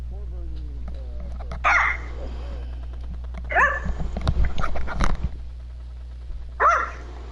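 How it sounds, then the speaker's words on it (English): Several dogs barking indoors in short bursts with brief pauses, loud and close, over a steady background hum during a PS4 game broadcast. "Sorry, that's my fucking dogs."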